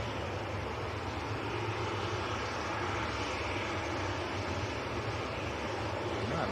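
A Maltese-registered Ryanair Boeing 737-800 bound for Marseille, at Manchester Airport in crosswinds, gives a steady, loud broadband jet roar that holds throughout and swells slightly at the end.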